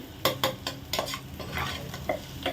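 Onions sautéing in a pan, a soft sizzle under several sharp scrapes and clinks as a spoon stirs them, close and uneven.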